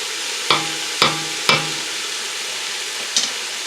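Cabbage and noodles sizzle in a pan over medium heat. A steady frying hiss runs throughout, broken by three evenly spaced stirring scrapes early on and one more near the end.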